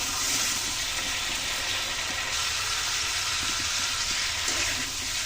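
Cauliflower, potato and tomato curry sautéing with spices in a pan, giving a steady close sizzle and frying hiss with occasional light clinks, continuous throughout.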